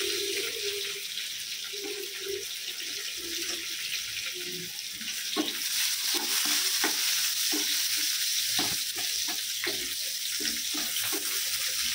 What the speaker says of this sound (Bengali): ব্রাউন করে ভেজে নেব। এবার 3টা কাঁচামরিচ দিয়ে নেব।